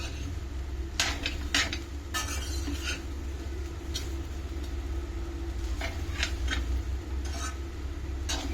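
A utensil scrapes and clinks in bursts against a pan as chicken pieces are stirred with masala for homestyle chicken fried rice, over a quiet low hum.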